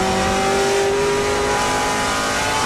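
A TA2 race car at Road America, heard onboard Ty Gibbs' car: the engine holds a loud, steady high-pitched note close up, then eases slightly in pitch partway through.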